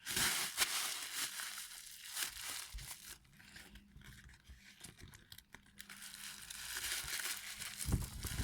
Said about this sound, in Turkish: Poşet.